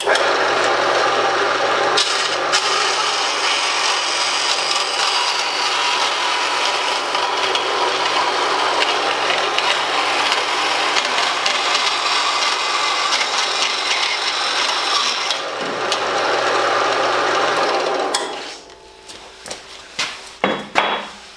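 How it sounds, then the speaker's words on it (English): A bandsaw doubling as cut-off and standing saw cuts through wood, a steady loud rasping cut running for about eighteen seconds before stopping, followed by a few sparse knocks and handling sounds. "Nice having a bandsaw that'll cut both as a cut-off saw and a standing saw."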